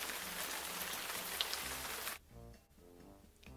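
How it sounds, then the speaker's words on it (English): Steady rain patters loudly on a surface for about two seconds, then cuts off abruptly, leaving a quieter stretch with a few faint drops. "We call it rain."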